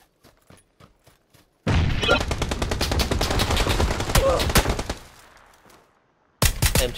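Automatic weapon fire from an MG4 and SLR in PUBG on Xbox One X, a long dense burst of rapid loud shots lasting several seconds after a few faint distant pops, then another sudden burst at the end.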